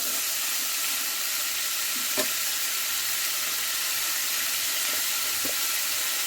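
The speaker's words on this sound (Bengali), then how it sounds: "লবণটা দেওয়ার পর আমি আবারও তেলের মধ্যে কষিয়ে নিচ্ছি" Vegetables with salt being fried in oil for a fish curry with pumpkin greens: a steady, even sizzle fills the whole stretch, with a couple of soft knocks from stirring, close up and with no voices.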